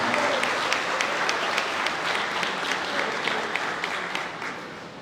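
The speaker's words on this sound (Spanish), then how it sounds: "Un aplauso, por favor, le solicitamos para esta organización." Sustained applause from an audience at a cultural talk on peace and democracy, steady dense clapping filling the room at moderate volume for the whole stretch with no voices over it.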